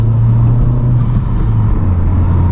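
Loud, steady engine drone from a 2021 Honda Civic Type R with an aftermarket intake under 5 to 6 pounds of turbo boost, deep rumble and slight rise in pitch, heard up close from inside, no voices.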